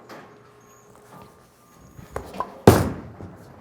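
A bowling ball released onto the lane, with a couple of light knocks building to one loud, sharp thud near the end, followed by a rolling rumble that trails off.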